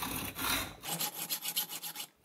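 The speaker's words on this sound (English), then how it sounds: "So I'm just going to do it using a hacksaw and files." A hacksaw and file cut a key slot into a metal part for a wood gasifier grate and agitator. A rough rasping stroke is followed by a run of quick, rhythmic scraping strokes, close and fairly quiet.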